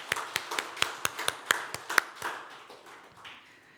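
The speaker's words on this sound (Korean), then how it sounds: "청년들 격려하는 마음으로 다시 한번 큰 박수 쳐주시기 바랍니다" A church congregation claps to encourage the youth on youth Sunday, a short run of distinct, fairly spaced claps that fade out after about two seconds into a quiet room.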